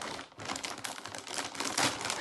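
A taped-up plastic bag around a McFarlane Batmobile figure being pulled open, a quiet run of crinkling and crackling with short tearing bursts, close and continuous.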